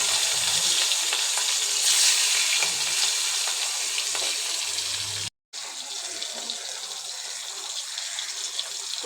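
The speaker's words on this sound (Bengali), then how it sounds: "পুঁটি মাছগুলো ভাজি করে নিচ্ছি" Puti fish frying in a pan with a loud, steady, close sizzle and hiss that holds almost continuously and cuts out briefly partway through.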